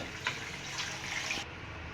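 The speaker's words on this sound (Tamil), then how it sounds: "பாருங்கள், நான் நிறைய தான் தண்ணி சேர்க்குறேன்." Water poured into a cooking pan of sautéed ingredients while making urundai kuzhambu, a soft, short splashing trickle that ends abruptly, heard faintly and close by with no talking.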